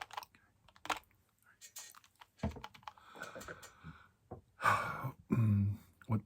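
Someone types on a computer keyboard in a quiet room, with scattered key clicks close to the mic and pauses between short bursts. Soft breathing and faint mouth sounds surface near the end.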